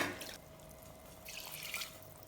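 Water drains from soaked basmati rice in a kitchen, with quiet trickling and splashing in two short bursts.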